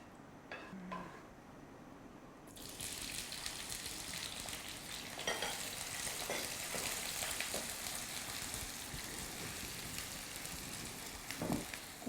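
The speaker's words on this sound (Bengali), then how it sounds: "তেলটা একটু গরম হলে নিশ্চয়ই তুমি এর মধ্যে পেঁয়াজ দেবে বোধহয়" Onions hit hot oil and break into a steady, broad sizzle that starts abruptly and keeps frying close by, with a few faint clinks of utensils over it.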